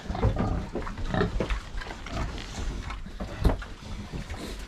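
Piglets grunting and snuffling in a steady jumble of short, overlapping calls, close by, with occasional louder squeals and rustling.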